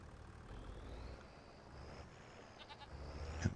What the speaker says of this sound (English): I need to double check the food and water for my goats and sheep